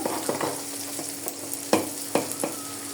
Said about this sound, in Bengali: পেঁয়াজগুলো টমেটোগুলো ভেজে নেওয়া হয়েছে, এখন দিয়ে দিব